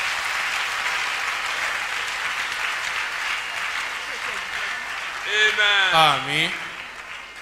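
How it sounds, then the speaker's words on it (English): Church congregation clapping in a steady broad wash for several seconds, with a voice briefly calling out near the end over the claps. "Clap for Jesus."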